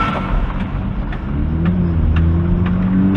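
BMW M2 sports car with 500 hp and 700 Nm being driven, heard from the cabin as a steady low engine drone that swells and rises in pitch, with road rumble underneath and no talking.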